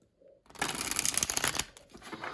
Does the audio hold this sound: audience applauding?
no